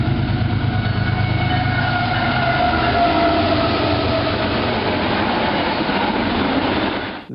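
Train 8098 rolling past, a loud, continuous rumble with a wheel clatter that holds steady throughout, recorded close on an early-2000s compact camera with narrow, muffled sound.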